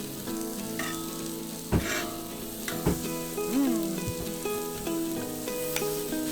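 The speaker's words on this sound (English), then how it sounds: "give them a quick sear in the Camp Chef" Sharptail grouse breasts sear on a Camp Chef stove with a steady, close frying sizzle, broken by a few sharp clanks and scrapes of utensils against the pan.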